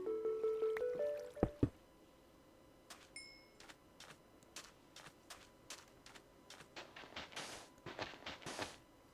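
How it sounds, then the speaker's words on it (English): Water is taken out of an oak barrel in Minecraft: a short rising tone, then a string of soft, quiet clicks and drips that quicken toward the end, faint and close. "now I can take the water and turn in this quest"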